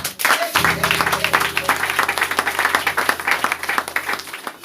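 A church congregation bursts into lively applause, dense rapid clapping from many hands filling the room, with a held tone or voice beneath the start and a few voices mixed in.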